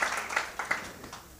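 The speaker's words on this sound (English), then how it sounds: "big round of applause, eh?" Scattered clapping from an audience at a pitching challenge workshop, brief and moderately faint, with a few sharper individual claps standing out.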